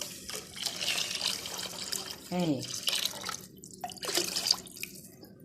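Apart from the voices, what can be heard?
tap water added to a pan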